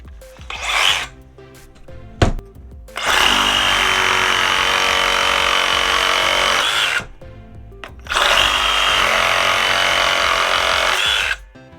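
Cordless DeWalt DCS382 reciprocating saw on a Power Stack battery, cutting in two long, loud, close buzzing runs of about four seconds each after a few short starts and knocks.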